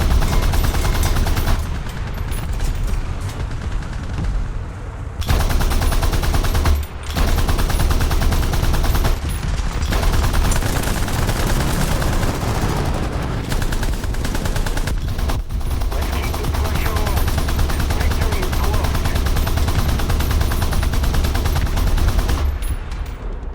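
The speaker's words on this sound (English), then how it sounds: "Suppressing fire!" Sustained suppressing gunfire in the Shogun 2 video game, dense overlapping volleys and crackling shots with a few brief lulls, loud and close for over twenty seconds.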